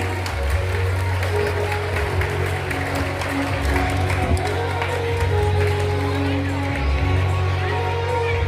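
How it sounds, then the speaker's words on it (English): Students clap for newly named house vice captains at a school investiture ceremony, a sustained round of applause filling a large hall while voices carry underneath. "Clap for your new Bhagat House Vice Captains."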